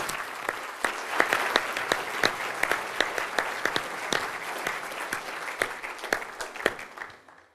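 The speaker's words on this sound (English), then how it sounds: "Please join me in a round of applause in honor of Dr." A medium-sized audience at an awards ceremony gives a round of applause, with many hands clapping in a dense, steady patter and louder individual claps cutting through before it fades out at the end.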